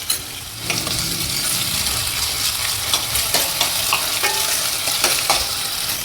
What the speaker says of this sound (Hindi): अब डालेंगे अदरक, लहसुन और हरी मिर्च का पेस्ट।